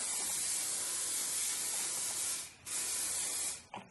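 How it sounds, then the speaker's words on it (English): Aerosol Fix It hair spray hisses in a long continuous burst over the top of a lace front wig, pauses briefly, then sprays again before a short final puff, close by. "get my Fix It spray, spray it on the top"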